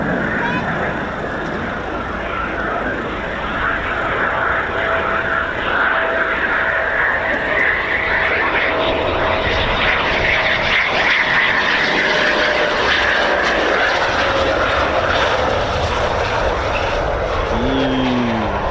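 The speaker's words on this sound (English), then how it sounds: "what a lovely surprise that F-35B from RAF Marham" An F-35B fighter jet from RAF Marham passes overhead, a sustained loud roar that swells and shifts in pitch as it flies by, with a voice talking over it.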